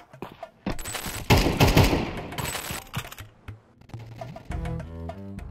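Gunfire in Counter-Strike 2 from a cheating player: rapid automatic bursts of shots in clusters, loud and close, mixed with other game effects and no talk.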